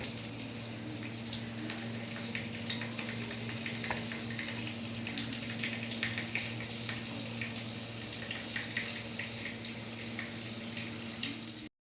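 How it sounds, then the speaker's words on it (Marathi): Shipla fish, coated in besan flour, fry in oil over a low flame, giving a steady close sizzle and crackle that runs continuously, with no talk. "आता हे फ्राय होत आहे"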